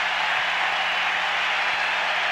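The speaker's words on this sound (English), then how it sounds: "And listen to the crowd. They love it in the dome." A baseball crowd roars inside the Astrodome during a Giants at Astros game on a clinching day, a steady, dense wash of cheering that stays loud and unbroken throughout.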